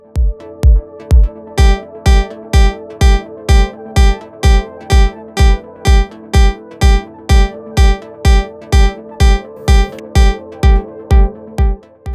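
A Prophet synthesizer driven by a Torso T1 sequencer and synced to a DAW plays a steady, tightly clocked pattern of loud, punchy notes, about two per second, with bright attacks and no talking.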